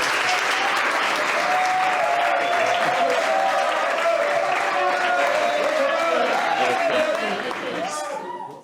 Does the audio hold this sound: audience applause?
yes